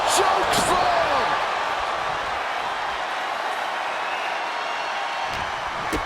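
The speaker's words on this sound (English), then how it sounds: "Two-handed choke slam." A two-handed chokeslam landing in a WWE 2K25 WarGames match: a loud body slam impact on the ring mat near the start, then broad crowd and arena noise continuing steadily underneath.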